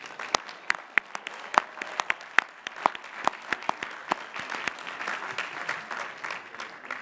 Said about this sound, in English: Please recognize the Bachelor of Science degree recipients with our hearty congratulations